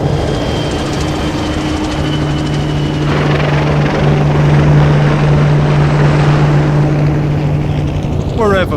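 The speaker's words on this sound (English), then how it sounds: "The sky is full of planes and helicopters." Helicopters fly overhead above Okinawa with a loud, constant rotor roar and thudding that never lets up, a steady engine drone layered underneath.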